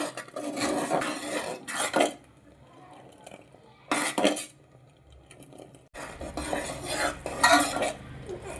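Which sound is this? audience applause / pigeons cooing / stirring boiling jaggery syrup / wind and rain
stirring boiling jaggery syrup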